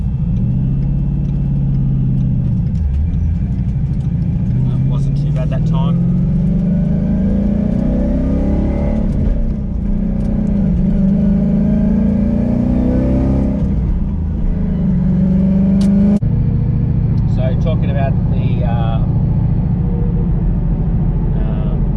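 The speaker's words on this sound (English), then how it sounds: "So this corner I normally get a lot of skip from the clutch, so now I'm taking off." A 2017 Ford Mustang GT V8 with an aftermarket clutch pulls away from a corner, its engine rising in pitch as it accelerates, then shifting and climbing again, loud and close from inside the car.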